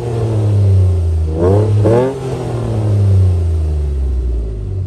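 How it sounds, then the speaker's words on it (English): A 1999 Ford Contour SVT engine idles low, then revs up sharply twice in quick succession before settling back to a steady rumbling idle. "I'll go ahead and rev the engine up"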